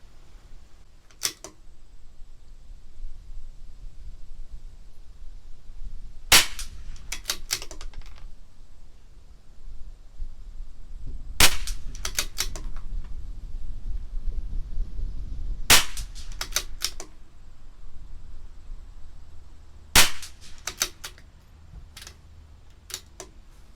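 A CZ 457 LRP rifle firing Lapua Midas Plus ammunition: five sharp cracks spaced several seconds apart, each a crisp loud report over a faint outdoor background hum.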